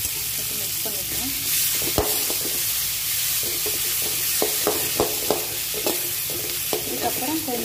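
Beans poriyal with cooked moong dal stirred in a pan: a steady low sizzle with repeated sharp spatula clicks and scrapes against the metal at an uneven rhythm, close and fairly loud.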